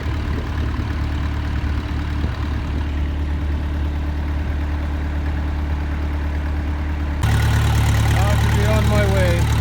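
A tractor engine runs at idle nearby on a winter farm, a steady low rumble that grows louder and fuller toward the end, with a voice speaking over it.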